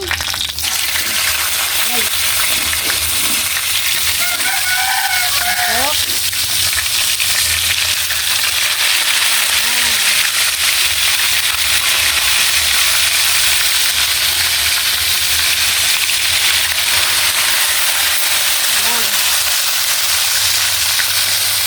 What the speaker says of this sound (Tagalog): So mga idol, magprito muna tayo ng isda.